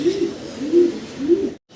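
Pigeons coo close by at a pigeon sale, three soft rolling calls in a slow, even rhythm, then a brief silence.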